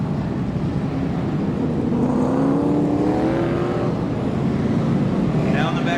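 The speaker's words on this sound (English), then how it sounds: "Down the back straightaway goes Charlie Jones" Dirt track race cars roar around a California dirt oval in Bakersfield, a steady engine drone with a rising revving tone as a car accelerates down the back straight, under a race announcer's commentary.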